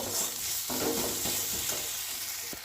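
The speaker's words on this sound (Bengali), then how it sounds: "এবার মশলাটা খুব ভালোভাবে আমি কষিয়ে নেব" Spice masala with tomato, salt and turmeric being fried and stirred in a pan for a mixed dal tarka, a close, continuous sizzle with scraping spoon strokes and a sharper knock near the end, no voices.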